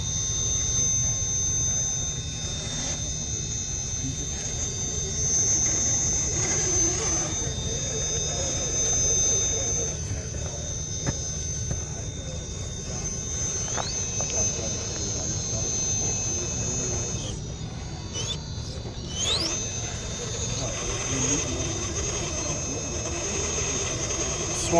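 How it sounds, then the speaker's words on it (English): Hobby-grade RC rock crawler with blue underglow and an outrunner electric motor, whining at a high steady pitch while crawling on a quarry hill, sustained and fairly close with outdoor background noise throughout. "This is Rick's rig with the blue underglow and an outrunner, just screaming."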